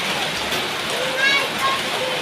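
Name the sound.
rain falling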